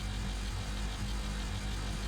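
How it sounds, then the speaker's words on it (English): A Honda Civic engine from a sound effects library idles steadily, a dense, even low rumble with constant mechanical noise throughout that cuts off abruptly at the end. "Go ahead and hit engine to start it up."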